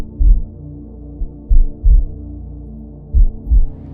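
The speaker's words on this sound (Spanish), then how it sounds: "nota cómo los latidos de su propio corazón se sincronizan con los de su pequeño" Deep, booming heartbeat sound effect, loud and close, with paired lub-dub thumps repeating at a steady slow rhythm, alone with no talking.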